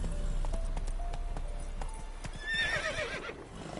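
The horse in the video game The Witcher 3 gallops with quick rhythmic hoofbeats, then gives a loud, shrill whinny that rises and falls near the end.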